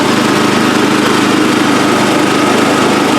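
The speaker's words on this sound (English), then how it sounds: "I'm going to go ahead and turn off the choke completely" A Yard Mate 212cc gas rear tine tiller engine runs loud and steady at close range, a continuous buzzing drone with no pauses.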